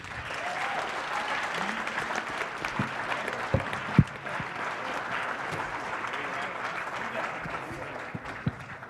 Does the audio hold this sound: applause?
yes